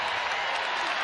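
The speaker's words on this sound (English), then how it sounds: "So the cheer that you're hearing is because Peely picked up her second personal foul." A large arena crowd at a women's college basketball game between Arizona and Utah roars in a loud, continuous burst of cheering and clapping, brief and sustained throughout.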